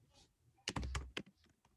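A short run of keyboard typing, a handful of close, fairly loud key taps clustered together, then a couple of softer clicks against a quiet room.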